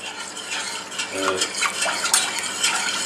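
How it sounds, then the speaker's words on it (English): A spoon stirs a thickening white sauce of milk, butter and flour in a pan for lasagna, soft scraping and wet swishing strokes repeating close by with faint kitchen clatter. "Keep stirring it until it thickens up, and then you're done with that."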